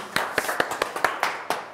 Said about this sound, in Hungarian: Gyerekek, Tapsoljátok meg a Ferit.